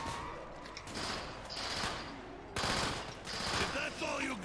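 Gunfire from the Xbox 360 video game Black Ops Zombies plays in rapid, sustained bursts through game audio, fairly faint and continuous, with some talking mixed in.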